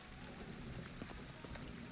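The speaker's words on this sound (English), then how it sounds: "It is raining again." Rain falls in the video game Ghostwire: Tokyo, a very faint, steady hiss of drops with light scattered patters and no talking.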